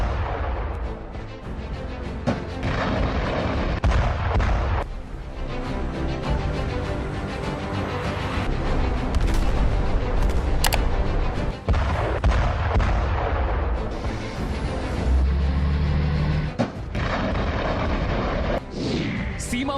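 A Chinese SH-15 howitzer firing: dense, rolling booms and blasts over a busy, noisy background, with voices mixed in throughout.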